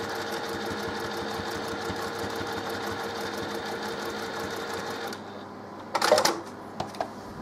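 A sewing machine stitches quilt block pieces together with a steady, fast mechanical whir for about five seconds, then stops, followed by a few brief clicks and handling sounds.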